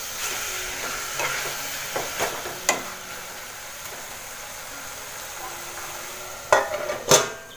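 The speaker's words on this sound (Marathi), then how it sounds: "आता हे व्यवस्थित जरा मिक्स करून घेते आणि झाकण ठेवून एक 5 मिनिटं शिजत ठेवते." Mushroom curry being stirred in a pan, with soft scraping and faint sizzling over a steady low background, and a few sharper clinks of the utensil against the pan near the end.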